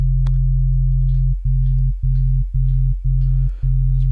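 Synthesized sub bass tone built from first, third and fifth harmonics, a loud, steady low drone that cuts off in short regular gaps, pulsing in repeated held notes about half a second long.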